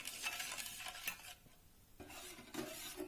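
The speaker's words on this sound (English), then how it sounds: "Keep stirring constantly" Sugar syrup being stirred in a pan over low-to-medium gas heat, soft scraping strokes of a spoon against the pan in irregular bursts, quiet and close, with no talking.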